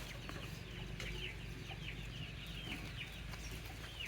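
Country chickens cluck and squawk in repeated short bursts while being caught with a fish net, steady farmyard noise throughout, fairly close.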